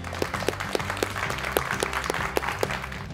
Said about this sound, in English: Let's clap for this good news.